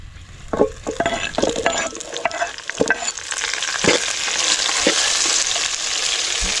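Onions, green chillies and curry leaves sizzle in hot oil while a spoon scrapes and stirs through them, the crackle growing steadier and denser toward the end, with several sharp clinks against the pan.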